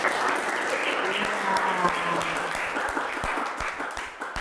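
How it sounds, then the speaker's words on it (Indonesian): A classroom full of people applauding, a dense burst of clapping that starts at full strength and gradually thins out toward the end, with some voices underneath. "Oke, beri aplaus."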